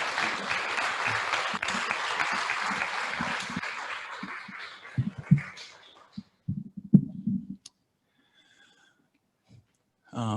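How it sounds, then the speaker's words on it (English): An audience at a Palm Sunday refugee justice livestream gives a round of applause that fades out after a few seconds, leaving scattered thumps, shuffles and near-silence; the recording is quiet and distant. "Round of applause for Fahad."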